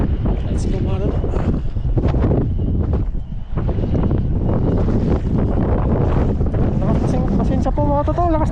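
Strong wind buffets the microphone on a small boat at sea, a loud, rumbling roar that runs throughout while a voice comes through in bursts.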